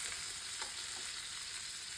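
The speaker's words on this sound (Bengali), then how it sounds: "এই যে ভাজা হয়ে গেছে ইলিশ মাছটা, আনাম ইলিশ" Hilsa fish fries in a pan with a steady, even hiss of hot oil, faint and continuous with no talking.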